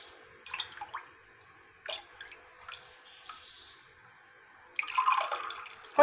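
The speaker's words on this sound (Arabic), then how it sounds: "ونبدا دابا نعمر في الكؤوس" Warm fermented raib milk mixture poured into drinking glasses, a few soft liquid splashes and drips in separate bursts, then a louder, fuller pour near the end, close and quiet with no talking.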